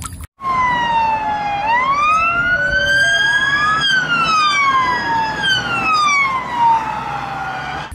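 A loud, close electronic siren wailing up and down continuously, with a bright harmonic-rich tone like a toy police car.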